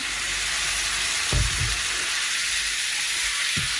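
Meat fries in oil in a pan with a steady, close hiss, broken by a few dull stirring knocks; no talking.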